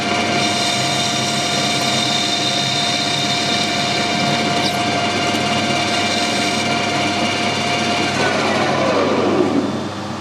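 A metal lathe turning at 1000 RPM while a carbide tool faces the end of a bar, giving a steady, loud whine with a sustained tonal ring that shifts slightly near the end of the cut.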